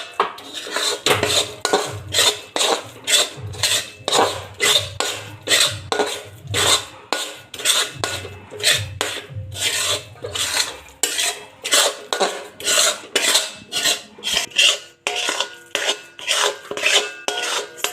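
A spoon scrapes and stirs gram flour and sugar syrup for mohanthal in a metal pot, making steady rhythmic rasping strokes that repeat close up throughout, with no talk.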